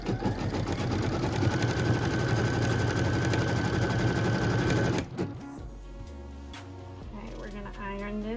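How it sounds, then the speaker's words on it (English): A Kimberbell embroidery machine stitches a tack-down and cut line with a fast, even mechanical whirr that stops abruptly partway through, after which a person speaks over light handling sounds. "we're stitching our final tack down and cut line"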